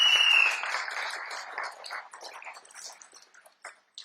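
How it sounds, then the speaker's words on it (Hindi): Audience applause at a DXN India business seminar: a dense burst of clapping that quickly thins into scattered, fading individual claps, moderately faint with no talking over it. "जोरदार तालियां सभी के लिए"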